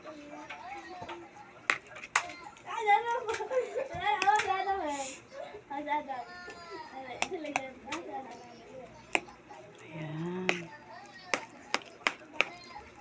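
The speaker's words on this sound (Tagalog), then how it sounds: "Saka ito guys, hiwa-hiwain natin." A knife slicing eggplant for a Filipino talong salad, sharp chopping taps landing unevenly on a board, close and fairly loud, while a person talks over much of it.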